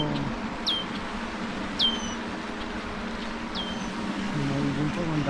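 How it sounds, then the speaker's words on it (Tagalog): Birds call outdoors in a Canadian setting, with a few short, sharp chirps spaced a second or two apart over steady background rumble and a voice speaking. "mayroon pa ang daming ibon mga kaurag oh"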